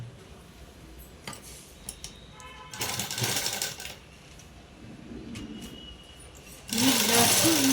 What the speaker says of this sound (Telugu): దీన్ని అనేది షోల్డర్కు ఇలా స్ట్రైట్గా పెట్టేసుకొని కుట్టు అనేది వేసేసుకున్నాము.